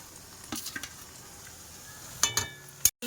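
Garlic, ginger and cumin pastes hit a hot frying pan with a quiet, steady sizzle, punctuated by a few clinks and scrapes of a spoon against the pan and one sharp knock near the end.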